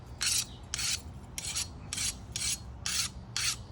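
Dull blade of a new knife drawn across a sharpening stone in seven steady, evenly spaced rasping strokes, each a bright gritty scrape close to the microphone, with a low hum underneath.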